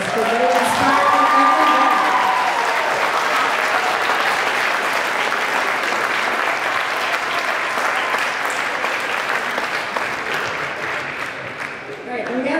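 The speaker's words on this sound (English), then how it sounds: "give them a round of applause" At the SVA Christmas Pops concert, an audience applauds for a long stretch, a thick, steady roar of clapping with some cheering that tapers slightly toward the end, and a brief tonal note lingers at the start.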